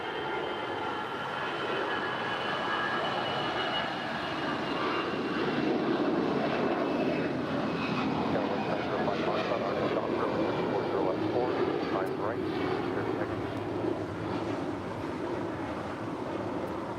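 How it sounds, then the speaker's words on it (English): An American Airlines Airbus A319 jet rolls down the runway on takeoff at LAX, its engines giving a steady, moderately distant roar that holds for the whole stretch, with faint voices in the background. "It's an A319 already rolling down"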